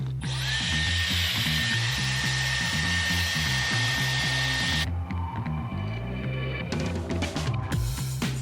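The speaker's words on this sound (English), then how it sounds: "Good thing I've got a Dyson Airwrap" A Dyson Airwrap hair styler blows loud and steady for about five seconds, its high whir cutting off abruptly, followed by softer rattling and handling clatter at close range.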